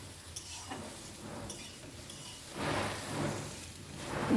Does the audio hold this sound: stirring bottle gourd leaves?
yes